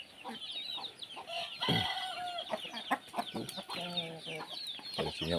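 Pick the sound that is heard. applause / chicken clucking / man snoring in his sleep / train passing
chicken clucking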